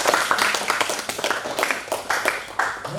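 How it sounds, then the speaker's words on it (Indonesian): Applause from a group, quick overlapping claps rising and falling in bursts over a few seconds. "Terus tepuk tangan dulu"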